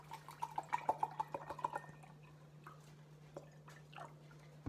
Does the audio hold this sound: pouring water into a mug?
yes